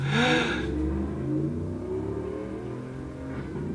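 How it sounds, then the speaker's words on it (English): A big Texas truck with a loud muffler roars past, loudest at first and then fading to a rumbling drone as it moves away, with no voices. "every time a big Texas truck muffler drives by"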